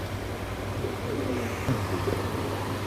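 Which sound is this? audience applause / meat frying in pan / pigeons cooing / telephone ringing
pigeons cooing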